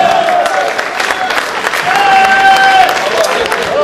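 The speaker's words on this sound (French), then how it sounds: "Allez, vos applaudissements." A crowd applauds at the opening of a local fair in Clisson, loud dense clapping with some cheering mixed in and faint voices or music tones running beneath it.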